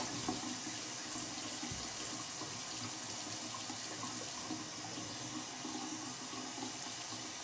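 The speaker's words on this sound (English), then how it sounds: "get my towel to like wash it off with warm water" Warm water pouring steadily from a bathroom tap to wet a towel, giving a constant close hiss and splash throughout with no voices.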